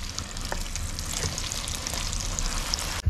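Eggs sizzling and frying in a hot pan for a simple noodle meal, a steady dense crackle throughout with a brief knock near the end.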